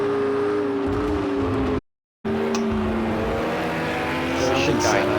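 A Ferrari 488 GT3 race car in a sim racing game heard onboard at Oulton Park, its engine whining steadily and shifting in pitch, broken by a brief dropout, with a commentator talking over it.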